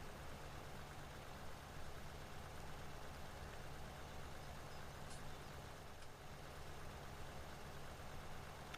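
A Fendt tractor engine in a farming video game runs at a steady, continuous drone, holding level throughout.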